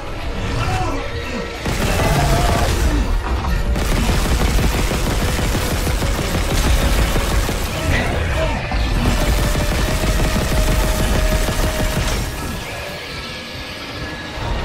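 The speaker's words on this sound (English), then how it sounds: "Really got to improve the damage on this gun." Gunfire from a weapon in the Dead Space (2023) remake, sustained rapid, loud automatic bursts layered over a dense, clattering sci-fi soundscape, with brief pauses between volleys.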